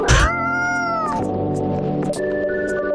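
Cat meowing in the video game Coffee Talk, a clear, close, drawn-out meow with a falling pitch, then a couple of shorter mews over soft background music.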